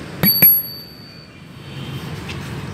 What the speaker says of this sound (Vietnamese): Có chuông, tích hợp.